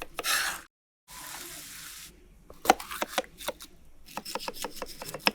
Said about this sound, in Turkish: Küp küp doğrayın ve tavaya koyun.